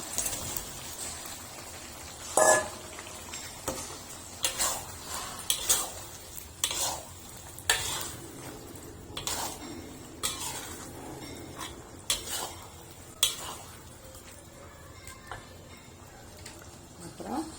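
Crab sticks being stir-fried in a pan for sambal, with repeated sharp clinks and scrapes of a utensil against the pan over a steady low sizzle, the strokes coming at irregular intervals and standing out close and clear.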